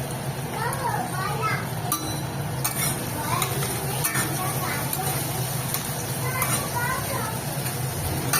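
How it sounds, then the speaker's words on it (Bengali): Sliced onions sizzling in hot oil with cumin seeds in a kadai, stirred with a spatula that gives occasional clinks against the pan, under steady frying hiss with faint background voices. "পেঁয়াজটা ভাজা ভাজা হচ্ছে"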